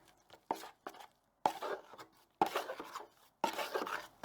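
Drywall joint compound is mixed in a bucket with four separate scraping, slopping strokes about a second apart, each a short burst of wet scraping with quiet pauses between.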